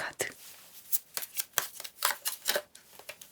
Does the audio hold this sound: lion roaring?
no